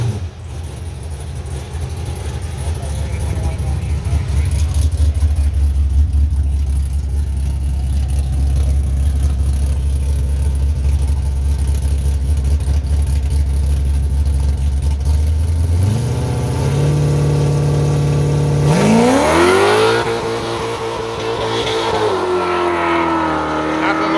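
A small Fiat drag car with a Magna 3.5 litre V6 in the back idles with a loud, heavy rumble at a no-prep drag meet, then revs hard in rising and falling sweeps near the end.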